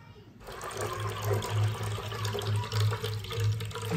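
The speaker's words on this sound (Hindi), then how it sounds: "टोटे खोलो पानी आया" Water streams steadily from an opened tap in an outdoor village kitchen, a continuous rushing wash with a low rhythmic pulsing underneath, while people talk over it.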